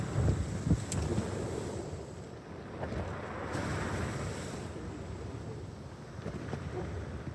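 Strong wind buffets the microphone on the Bristol Channel coast in South Wales, a steady roaring rush with gusts that rise and fall throughout, with no voices over it.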